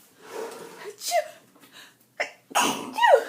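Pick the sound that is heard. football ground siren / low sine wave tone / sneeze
sneeze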